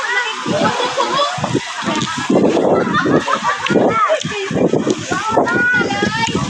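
Water splashes and sloshes continuously while children and adults talk and shout nearby.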